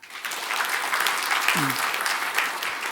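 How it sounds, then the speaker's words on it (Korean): A church congregation applauds after a baptism during a Sunday service, giving a steady wash of many hands clapping throughout, fairly soft and even. "자, 박수 한번 칠까요?"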